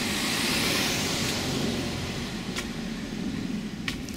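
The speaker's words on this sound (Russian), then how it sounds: "Так, там машинка едет." A car passing on a street at night in South Korea, a steady broad road rumble and hiss that slowly eases, mid-distance and fairly loud, with no voices.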